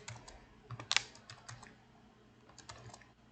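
Keys on a computer keyboard clatter quietly as text is typed into an HTML form, a short run of soft clicks with one louder strike near the first second, then a few more taps after a pause.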